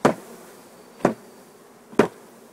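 Honey bees packed inside a hive box, disturbed by the box being jarred, with three sharp knocks about a second apart, each followed by a brief swell of buzzing over a low steady hum.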